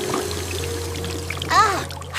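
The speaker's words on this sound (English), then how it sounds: "He hops to the sink and turns on the shiny water." Water from a sink tap pours in a steady stream for a couple of seconds, with a brief louder splash near the end.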